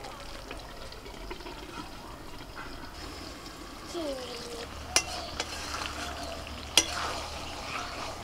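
Chicken being stirred as it cooks in a pot gives a low, continuous frying hiss with faint scraping, then two sharp metallic clanks from the lid or utensil near the end.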